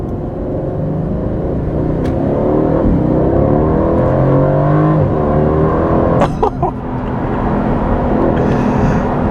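A 500 hp Aston Martin Vantage with an AMG V8 accelerates hard, its loud, close engine roar climbing through the revs in sweeping rises, with a brief dip partway through as it shifts, heard from inside the car without talk.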